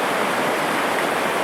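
Loud, steady roar of the flooded Albert River rushing past close by, a dense continuous wash with no pauses.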